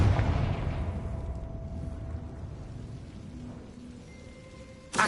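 Confringo spell blast in the Hogwarts Legacy video game, a loud fiery explosion at the start that rumbles and fades slowly, followed by a sharp new burst at the very end.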